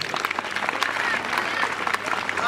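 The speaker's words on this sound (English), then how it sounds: "Let's give them a hand of applause." A crowd claps in brisk, scattered applause for an army cadet parade drill performance, with a few voices mixed into the clatter.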